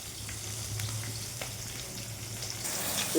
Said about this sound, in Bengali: দেখুন বন্ধুরা কুমড়োগুলো আগে ভেজে নেবো